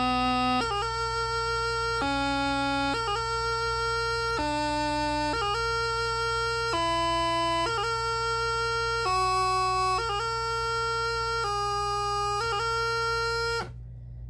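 A bagpipe practice chanter plays a scale starting on low G, about ten steady reedy notes in even succession, clear and close with no talking.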